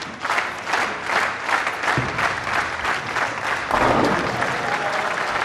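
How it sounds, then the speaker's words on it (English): Dense crowd applause fills the Metrodome Arena in Barnsley at a bowling event, loud and sustained clapping from a large audience that swells again near the end. "Dom Barrett takes the plaudits of this crowd"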